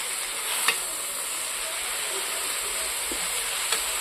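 Snail curry spices stirred in a pan give a steady soft sizzle, with a few faint scraping clicks from the spoon spread across the stretch.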